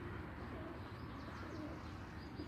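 Soft feral pigeon coos murmuring in the distance in a farm backyard over a steady low background hum.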